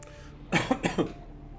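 A person coughs three times in quick succession, close and fairly loud, followed by quiet.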